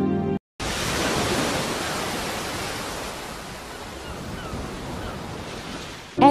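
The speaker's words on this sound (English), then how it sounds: "This is how ocean waves sound on the Earth." Ocean surf on Earth rolls as a steady broadband wash of breaking waves, loud and close, with a brief gap of silence near the start and no voices.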